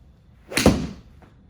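Single sharp strike of a golf ball with a Srixon ZX 7-iron, a brief loud crack with a quick whoosh trailing off, close and isolated.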